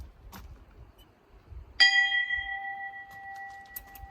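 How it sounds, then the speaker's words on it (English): A single bell strike rings out near a chateau by the Canal du Midi in France, a sharp clang followed by a long, steady, slowly fading tone over faint outdoor background. "The bell."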